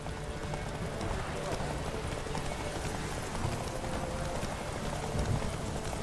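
A horse's hooves clop at a gallop in Witcher 3, a continuous rhythmic drumming layered over a dense ambient background, with talk over it.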